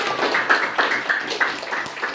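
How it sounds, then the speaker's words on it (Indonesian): Classroom students clap for a classmate named Julian in a short, thin burst of scattered hand claps, moderately near, with no talk over it. "Beri tepuk tangan yang meriah untuk Julian."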